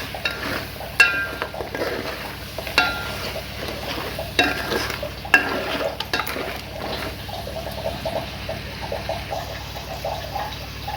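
Crab curry masala frying in a pan, with a steady soft sizzle, scattered clinks and scrapes of a spoon on metal, and occasional louder knocks throughout, close up and with no speech.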